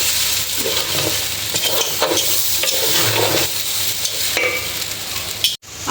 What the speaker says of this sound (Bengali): আমি আর একটু সময় ভাজবো